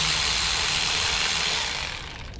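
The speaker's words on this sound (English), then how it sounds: "the Milwaukee 3/8 inch ratcheting wrench, electric, I love it" A Milwaukee 3/8 inch electric ratcheting wrench runs with a steady, loud motor whir, used while installing Biltwell Keystone bars and Vans Cult grips on a 2022 Honda Rebel 300, easing slightly near the end.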